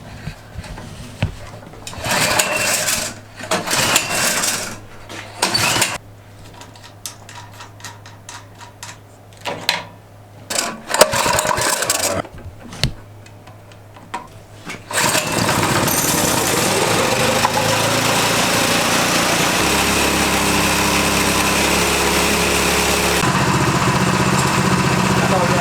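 A small gasoline engine on a homemade hybrid gas/electric trike, with choke on and a carburetor needing cleaning, sputters through several short uneven bursts before catching and running steadily and loudly for the final ten seconds, with some talk.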